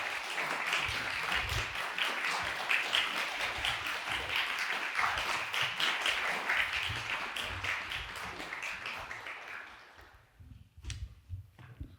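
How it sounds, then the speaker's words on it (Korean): An audience at a composer's concert applauds as the composer is welcomed to the stage. Steady, full clapping lasts about ten seconds, then fades to a few scattered claps and low room noise. "박수로 맞아주시기 바랍니다."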